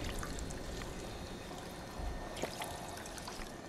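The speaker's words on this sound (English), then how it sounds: "we'll have a drink of water here" Gulping water in Fallout 4 makes a soft pouring, trickling liquid sound, faint and steady over a low background rumble for a few seconds.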